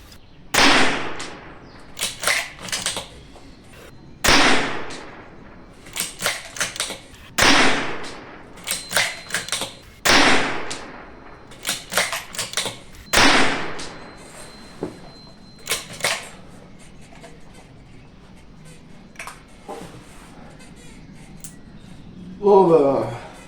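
Bergara rifle fired without a suppressor at a shooting stand: about ten sharp, loud, unsuppressed shots spaced several seconds apart, each followed by a brief rattle and echo, with someone talking quietly between them.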